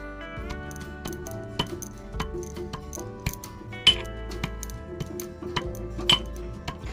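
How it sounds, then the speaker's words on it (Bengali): Turmeric is pounded in a metal mortar and pestle, giving sharp ringing clinks at an irregular pace, each strike close and bright with a lingering metallic tone. "সেই হলুদই হামানদিস্তাতে একটু গুঁড়ো করা হচ্ছে"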